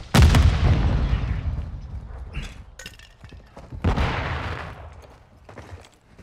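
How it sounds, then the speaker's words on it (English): A grenade blast in Modern Warfare 2 opens with a loud, close boom and rumbling decay, followed by scattered gunshots and a second heavy explosion that fades out. "I threw a grenade."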